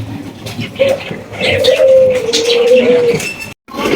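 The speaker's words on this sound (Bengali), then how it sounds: "এখানে কিন্তু আমরা আরো এক জোড়া ডেনিশ কবুতর দেখতে পাচ্ছি" Danish pigeons coo in a low, steady drawn-out call lasting a couple of seconds, close by, with other bird chirps and light background chatter at a poultry farm.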